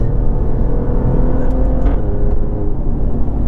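An Alfa Romeo engine of around 500 horsepower pulls hard and steady with a throaty exhaust note, a continuous loud mechanical drone with no talking.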